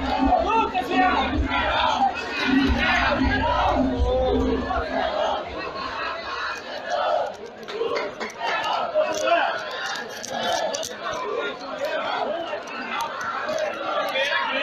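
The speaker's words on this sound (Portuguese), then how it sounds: "E a torcida agora já improvisou um canto ali, né?" Football fans at a futsal cup final in Chorrochó, Bahia, chanting together as a rhythmic crowd roar, with a commentator talking over it throughout.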